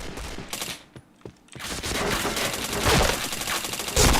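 Rapid gunfire in a shooter video game, bursts of automatic shots after a short pause, growing denser and louder toward the end, with no talking over it.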